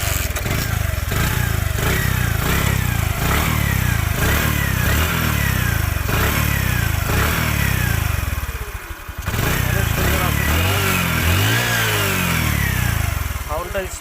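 A Bajaj Platina 100cc motorcycle engine running close by, with a steady, loud, even putter of firing pulses throughout and a brief dip near the end before it settles back to the same smooth beat.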